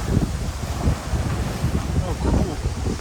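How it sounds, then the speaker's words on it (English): Wind gusts rumble against the microphone at a beach in Pattaya, Thailand, a low buffeting roar with uneven puffs running throughout, while a person talks faintly underneath. "A little bit windy."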